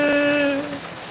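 Rain falls outdoors as a steady broadband patter, with a brief humming tone fading out over the first half-second.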